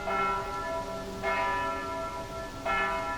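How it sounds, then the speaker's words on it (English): Church bells ring out across a town as a fire breaks out, struck in a steady rhythm with rich ringing tones, a fresh strike roughly every second and a half, fairly loud and alone. "the church bells also begin to chime"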